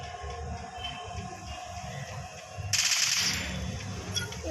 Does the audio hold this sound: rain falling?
no